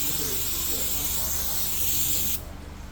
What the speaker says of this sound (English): You done brushing it, spray it again.